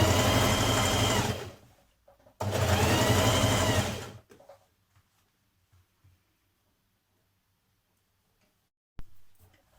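A sewing machine stitches a dress seam in two loud bursts of rapid, even whirring, each about two seconds long, separated by a short pause and followed by near silence.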